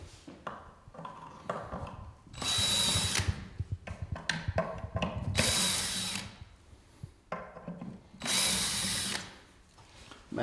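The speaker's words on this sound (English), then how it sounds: "I'm going to remove these screws." A power drill backs screws out of a wooden easel during assembly, with three long whirring bursts separated by clatter, handling and small knocks, close and loud.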